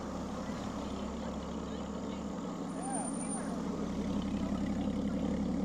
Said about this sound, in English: there's a ton of cars on this road